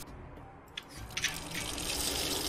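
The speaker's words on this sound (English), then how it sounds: "and we fill it up with water" Water runs into a container, building from a few soft drips into a steady, continuous pour that grows louder, with no voice over it.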